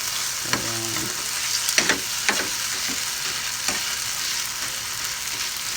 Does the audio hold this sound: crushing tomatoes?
yes